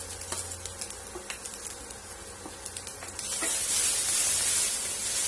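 Ginger, garlic and green chillies dropped into hot oil for veg manchow soup, with a few light clicks of the pan, then a loud, broad, steady sizzling hiss swelling up and continuing.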